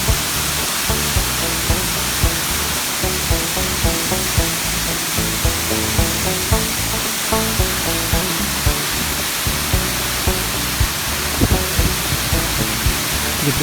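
Bridal Veil Falls in Hope, British Columbia, Canada, fed by melting snow, throws a steady, dense roar of falling and spraying water. The rushing sound stays unbroken and fairly loud throughout, with no voices.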